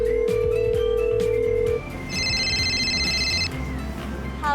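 A telephone rings during an outgoing call, a steady tone followed by bursts of electronic ringing chirps over a low background hum, close and clear, with no talking.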